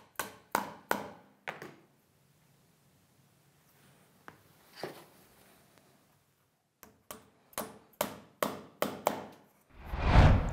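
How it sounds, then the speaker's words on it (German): Wooden dowels hammered into glued holes in a woodworking joint, a series of sharp, close knocks in quick bursts, then a pause, then another run of strikes ending in a louder rustle. "können wir die Dübel hier schon einmal reinhauen"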